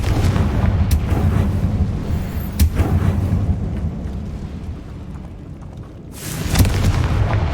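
Confringo blasting spell from Hogwarts Legacy erupting in loud booming explosions within continuous game combat noise, with sharp blasts near the start, midway and a big burst toward the end.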